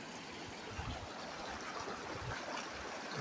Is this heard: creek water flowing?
yes